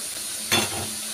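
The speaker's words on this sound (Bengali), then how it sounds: "তো আলু দেখো ভাজা আলুটা এর মধ্যে আমি দিয়ে দেবো।" Fried potatoes dropped into a simmering chicken and green pea curry, a short burst of sizzling hiss that swells suddenly and then settles back to a low bubbling, close by with no voices.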